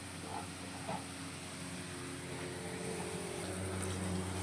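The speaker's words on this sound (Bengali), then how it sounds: "তাহলে বাঁধাকপিটা এখন ভালো করে ভাজা হোক।" Cabbage frying in a pan for a Bengali kachki fish chochori, giving a continuous, even broadband hiss of oil and steam that stays close and steady throughout, with no voices.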